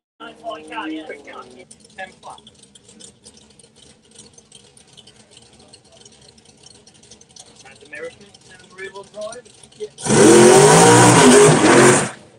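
A BMW X3 M at a racing test session roars past loudly near the end, after a long stretch of voices talking over faint background engine noise.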